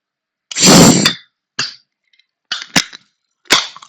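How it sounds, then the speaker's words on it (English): An energy drink can cracks open with a sharp pop and a short fizzing hiss, followed by a few small clicks and taps of the metal can, close and fairly loud with no talking. "I'm just gonna open my energy drink."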